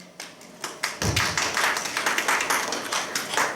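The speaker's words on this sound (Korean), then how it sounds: "많은 박수로 시작하겠습니다." A small audience claps to open a conservative political talk broadcast, starting with a few scattered claps and then building into quick, rhythmic clapping from a modest group.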